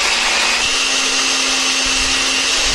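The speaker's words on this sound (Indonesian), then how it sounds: "Nah ini aku menghaluskannya pakai chopper ya, biar nanti teksturnya itu lebih cantik." An electric chopper grinds chili peppers with a loud, steady high whine and constant motor hum, close up and uninterrupted.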